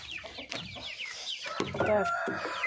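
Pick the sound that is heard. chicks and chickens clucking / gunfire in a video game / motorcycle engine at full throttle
chicks and chickens clucking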